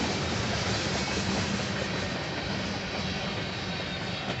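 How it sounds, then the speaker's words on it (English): A long Union Pacific freight train rumbles past close by, a steady broadband roar of rolling wagons with faint clatter throughout, no voices. "here comes the end of the train"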